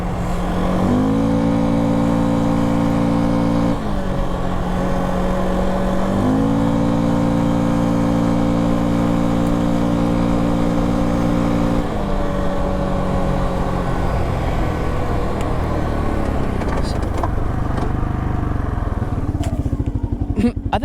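A Can-Am XMR 700 four-wheeler ATV engine revs loudly and steadily while being ridden, its pitch climbing and dropping through gear changes and throttle surges, close up, with a voice talking faintly underneath.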